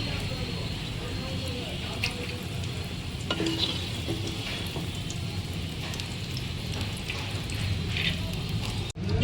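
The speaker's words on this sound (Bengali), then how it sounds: "এটাকেও ভালোভাবে এর সঙ্গে আরও দু মিনিট ভেজে নেব" Potato and papaya pieces frying in a pan, giving a continuous close sizzle with occasional scraping and stirring clatter and a brief knock near the end.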